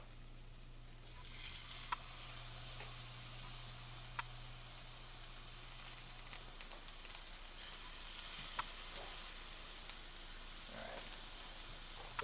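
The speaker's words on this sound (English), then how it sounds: "So that was a good little sizzle there." Garlic paprika strip steaks sizzle in a hot pan, a quiet steady crackling hiss with scattered small pops and a low hum fading out partway through.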